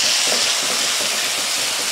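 Onions already golden brown sizzle and fry steadily in a pan as a tablespoon of ginger garlic paste goes in, a dense continuous hiss close up with no talk.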